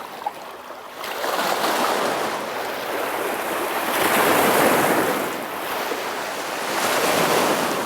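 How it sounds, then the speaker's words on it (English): Ocean waves rolling in and washing over, swelling and fading in long surges, loud and close with wind blowing across the microphone. "Waves"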